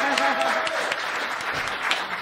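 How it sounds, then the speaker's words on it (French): A crowd at a blues night event applauds the photographers, a short burst of dense clapping mixed with cheering voices and some overlapping chatter. "Bon, on applaudit nos photographes."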